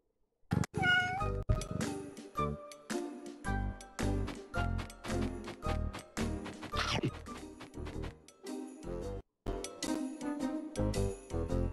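Meows from a hungry kitten in the game Cat Escape repeat in quick succession, loud and close, some short and some drawn out, over a bright musical backdrop, with brief gaps between phrases.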